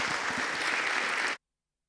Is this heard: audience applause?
yes